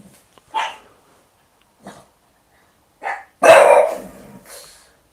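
A dog gives a few short, spaced barks and woofs, then one louder, longer bark near the end, close by in an otherwise quiet room.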